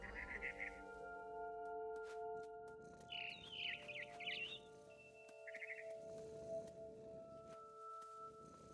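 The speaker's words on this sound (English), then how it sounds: "I heard chirping outside my window. It was a barn swallow going back to her nest." In the video game What Remains of Edith Finch, a barn swallow gives short chirping bursts at intervals, fairly faint over a low, steady ambient background.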